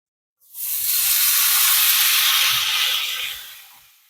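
A ribeye steak hits a hot pan on an RV stovetop, bursting into a loud, steady broadband sizzle that holds for about three seconds before easing off, with no talking.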